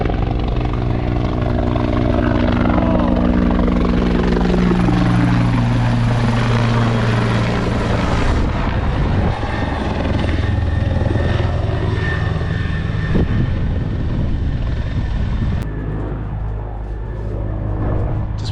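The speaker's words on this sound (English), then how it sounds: "next thing the rescue chopper's here, stretchering someone" A rescue helicopter near a boat anchorage gives a loud, steady rotor roar with a heavy low thrum and whine, close and continuous throughout with no speech.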